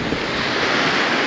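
Sea waves wash against concrete blocks on the Black Sea shore at Lazarevskoye, Sochi, making a constant loud, close rushing surf mixed with wind noise on the microphone and no voices.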